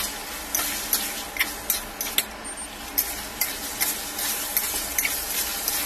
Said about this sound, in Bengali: নিয়ে এখন নেড়ে চেড়ে মশলাটিকে ভালোভাবে আমি কষিয়ে নিচ্ছি মাংসের সাথে।